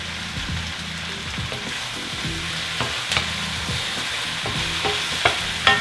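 Garlic, onion and thyme stir-fry in a pan, a constant moderate sizzle with repeated scraping and clinking of a utensil stirring, occasional sharper knocks near the end.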